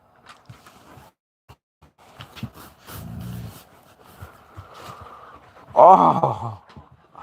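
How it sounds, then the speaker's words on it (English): A puppy playing with a larger dog indoors, giving scattered yips, snuffles and scuffling, then a burst of louder barking and growly whines near the end, close and lively, with no talking. "That's a puppy."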